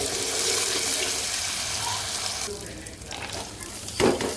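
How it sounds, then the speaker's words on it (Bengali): Cumin paste and onions fry in oil, first as a loud, steady, close sizzling hiss, then a quieter stretch broken by a stirring clatter near the end. "জিরা বাটা দিয়ে ভালো করে ভেজে নিচ্ছি"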